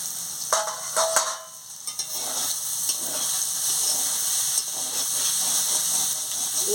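Gima greens fry in a pan after the lid comes off, giving a loud, close, steady hiss and sizzle with a few stirring knocks near the start and no talking.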